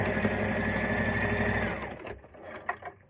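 A sewing machine back stitching a maxi skirt seam runs in a steady, loud, fast whir, then stops abruptly and leaves a few faint clicks and handling noises.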